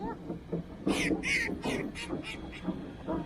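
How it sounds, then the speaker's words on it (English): A run of loud, nasal duck quacks repeats in quick succession nearby, over a low outdoor background, in Cambrils, Spain. "Very noisy ducks."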